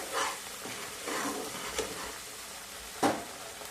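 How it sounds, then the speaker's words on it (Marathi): Onion and coconut masala being sautéed in a pan for a shrimp-free drumstick and potato curry, with soft scraping stirs and a faint sizzle, one sharper clank of the spoon near the end. "1-2 मिनिटभर परतून घ्यायचंय।"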